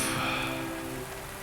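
Rain falls in a soft, steady patter, fairly quiet and fading slightly, with a faint tonal hum underneath and no voices.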